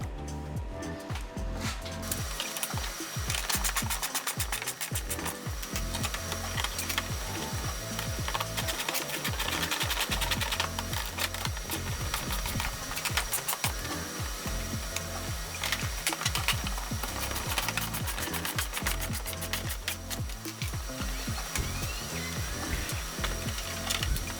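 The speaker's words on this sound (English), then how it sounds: "you want to put the screws in the bottom, middle, and top, and then you want to put the rivets in these three here" Screws and rivets being driven into splash guards on a 5th-gen Toyota 4Runner, a steady run of ratcheting, whirring tool bursts and clicks, close and continuous with no talking.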